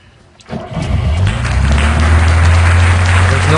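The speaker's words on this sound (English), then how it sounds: "So let's go ahead and start it up." The engine of a VAZ 2101 starts with the choke pulled out, a quiet moment before it catches about half a second in, then a loud, steady, slightly high idle that rumbles on close by.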